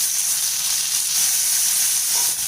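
Tomato dropped into a hot frying pan while cooking a tamarind-style kuzhambu, giving a steady, bright sizzle that hisses on continuously at close range.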